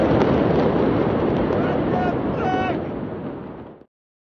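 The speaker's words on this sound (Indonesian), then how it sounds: "ledakan dahsyat mengguncang negara itu." The massive August 2020 explosion in Beirut, Lebanon: a loud, sustained, roaring blast rumble fills the scene and then cuts off abruptly.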